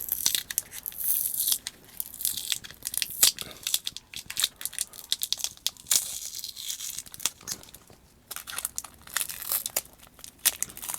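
Adhesive tape being pulled off a 36V battery pack built from used 18650 cells, giving a continuous crackling, tearing sound with quick crinkly bursts, close and moderately loud throughout.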